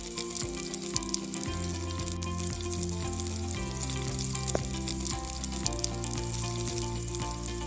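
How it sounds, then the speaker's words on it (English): Chopped onion sautés in a pan for mushroom soup, a continuous close crackling sizzle, with low steady hum and tonal notes running beneath it. "Add the chopped onion and sauté until it becomes translucent, about 3 to 4 minutes."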